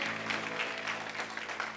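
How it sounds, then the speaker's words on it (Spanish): A church congregation applauds during a Spanish-language worship service, a continuous, even wash of clapping from many hands with no pauses, heard at moderate distance in a reverberant hall. "Dele ese aplauso fuerte al Señor porque Él es bueno."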